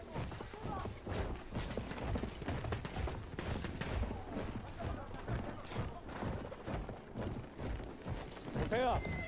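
A horse gallops in a video game, with rapid rhythmic hoofbeats running continuously under excited shouted voices and other game effects.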